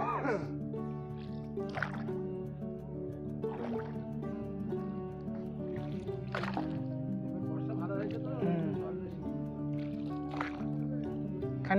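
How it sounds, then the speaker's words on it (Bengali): A boat carries passengers on a river near the Shiva temple at Paglakhali. A steady low engine drone runs throughout, with faint splashes, and voices are heard over it. "নৌকা বিহার করছি।"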